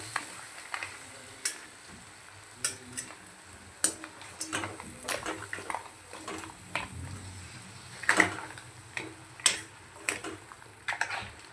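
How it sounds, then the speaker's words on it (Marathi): Crabs sautéed in masala in a pan, with a soft sizzle under frequent sharp clicks and scrapes of a utensil stirring against the pan. "यात आपण आपले खेकडे ॲड करू. आणि याला छान असं परतून घेऊ."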